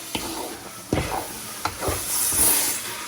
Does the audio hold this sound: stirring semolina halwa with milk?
yes